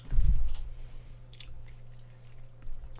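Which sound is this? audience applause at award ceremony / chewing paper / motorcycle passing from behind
chewing paper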